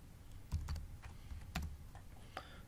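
Keys tapped on a computer keyboard while entering a file name during a file-sharing setup, a few quiet, irregular clicks spread across a low, steady background hum.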